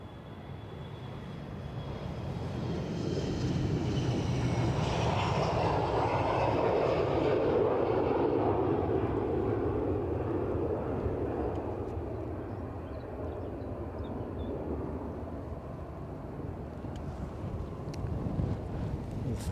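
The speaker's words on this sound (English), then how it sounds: "I'm sure this is the Bergen flight" The Bergen flight swells into a moderate engine rumble as it passes at Edinburgh airport, peaking midway and easing off, with wind buffeting the microphone.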